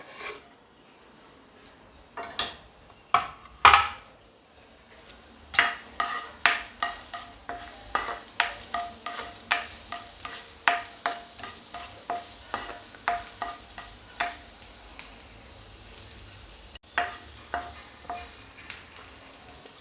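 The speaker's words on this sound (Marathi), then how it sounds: "तेल जसं गरम झालं त्यात सगळ्यात पहिले आपण यामध्ये ॲड करूया लसणला आणि अद्रक पण" Garlic and ginger sizzle in hot oil as they fry, with sharp scraping strokes of a spoon stirring against the pan coming in quick repeated bursts over a soft frying hiss.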